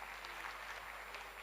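Audience clapping at a school's 18th annual day celebration, a faint, steady patter of hands heard from a distance in a quiet hall.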